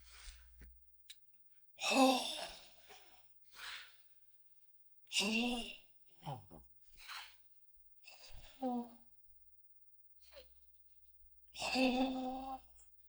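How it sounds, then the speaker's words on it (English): Deep, forceful breathing of the Kyokushin Sanchin kata, demonstrated as a series of loud, rasping inhales and exhales in irregular bursts, with short quiet gaps between breaths and no talking. "the Sanshin kata, which is like the major kata of Kyokushin or something like that, you can see it's like basically this deep breathing"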